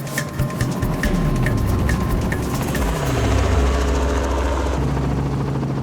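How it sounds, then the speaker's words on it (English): A helicopter drones steadily throughout, its engine and rotor noise loud and constant, with a low chopping pulse underneath, during a crocodile-trapping trip. "I hitch a ride in the chopper"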